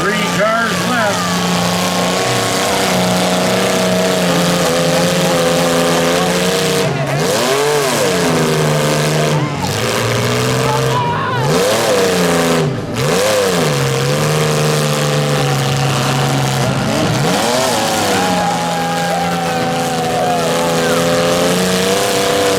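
Stock mini cars at a demolition derby smash finals in Schomberg rev and roar loudly and continuously, engines rising and falling in pitch with occasional thuds of impact, while voices talk over the noise.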